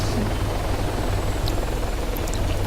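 A helicopter lands in the Arma 3 video game, its steady rotor thrum and engine whine continuous and fairly close, with faint clicks over the top.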